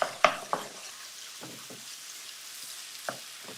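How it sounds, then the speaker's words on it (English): Lamb leg pieces browning in a pan for a tagine, a soft steady sizzle under a few sharp clatters and stirring knocks, close and fairly quiet. "Just going to brown off our lamb pieces."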